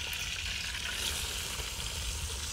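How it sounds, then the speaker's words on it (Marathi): Chopped onion frying in oil in a pan, a continuous close hiss and sizzle with faint crackle, steady and unaccompanied by talk. "हा पडला कांदा चांगला फ्राय कपामध्ये"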